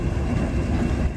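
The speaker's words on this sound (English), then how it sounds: "Class 50, number 50007, Hercules, arriving at Hyley." British Rail Class 50 diesel locomotive 50007 Hercules arriving at a Severn Valley Railway station during a diesel gala, heard as a steady, loud rumble of engine and rolling wheels with no speech.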